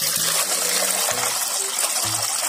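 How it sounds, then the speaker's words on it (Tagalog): Water gushes and splashes into a cooking pot of fresh saingan banana for a shrimp soup, a broad steady pour with a few brief low thumps. "Lagyan na natin ng tubig."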